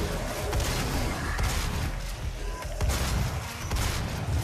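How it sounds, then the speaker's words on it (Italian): Dense, continuous gunfire from enemies in the Doom 4 video game, loud and sustained with overlapping bursts and blasts throughout. "Devo schivare i colpi"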